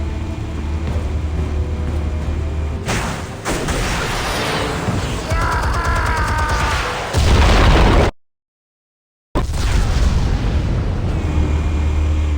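Explosives detonating in Batman: The Telltale Series, several loud booms and bursts with rumbling debris, a brief silent gap, then more heavy blasts.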